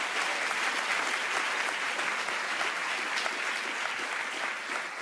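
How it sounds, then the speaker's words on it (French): A large theatre audience at an awards show applauds a performer with dense, continuous clapping at a steady level for several seconds, slightly distant. "Vous pouvez applaudir Alexandra Pizzagalli, s'il vous plaît"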